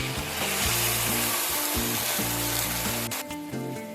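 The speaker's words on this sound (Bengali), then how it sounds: "নারকেল ভেজে নেওয়া হয়ে গেলে এর মধ্যে আমি বেটে রাখা মশলাটা দিয়ে দিচ্ছি।" Ground spice paste dropped into coconut frying in oil for a vegetarian banana flower dish, giving a loud continuous sizzle close by with soft stirring scrapes and no voices.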